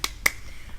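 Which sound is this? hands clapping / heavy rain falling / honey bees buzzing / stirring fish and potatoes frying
hands clapping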